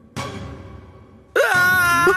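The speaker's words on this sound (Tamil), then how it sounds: "யாரோ கத்தன மாதிரி கேட்டுச்சு" A wailing scream in an animated series scene rises sharply with a bending, strained pitch and holds briefly, following an earlier short burst of noise that fades out, with no speech.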